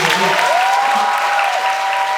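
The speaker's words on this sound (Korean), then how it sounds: "박수 한 번만 부탁드리겠습니다." A musical theatre audience at a closing-night curtain call keeps up continuous loud applause, with a sustained tonal note from the stage ringing briefly through the dense clapping.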